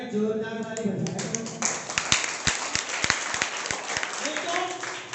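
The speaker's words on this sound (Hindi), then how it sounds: "ऐसी अच्छी अच्छी बातों पे तालियां जोरदार वाली बजाएं।" Audience clapping at a business seminar in Etawah, a run of sharp, separate claps that starts after a voice, is uneven and moderately loud, and fades as he carries on talking.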